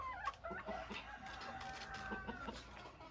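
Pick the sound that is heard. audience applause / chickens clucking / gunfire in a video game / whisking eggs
chickens clucking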